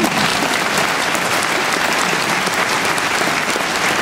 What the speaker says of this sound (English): Can we do a round of applause for that?